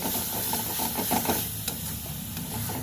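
Masala frying in a kadai for okra gravy, a steady close sizzle with soft scraping stirs and a few light taps of the spoon.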